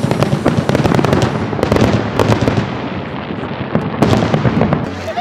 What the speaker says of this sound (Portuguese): agora eu vou gravar os fogos pra vocês verem